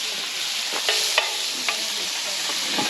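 Shrimp and minced garlic sizzle hard in a hot pan, a dense steady hiss punctuated by a few soft scrapes and knocks of stirring, close by and without talk.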